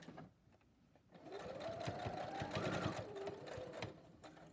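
A sewing machine back-stitching over a pleat on a face mask, a close motor whir that starts after a pause, runs steadily, and shifts pitch as the stitching reverses.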